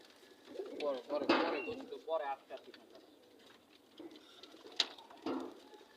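Pigeons coo softly in short bursts nearby, mixed with someone speaking and a few sharp clicks in a quiet space.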